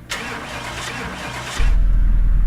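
A car engine cranks in Car Mechanic Simulator 2018, a brief starter whir followed at about 1.6 seconds by the engine catching and settling into a loud, steady low idle.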